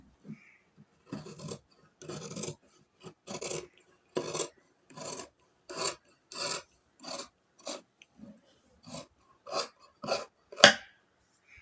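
Scissors cut through fabric for a pleated nighty in about a dozen crisp, rhythmic snipping strokes, close up and separated by brief silences.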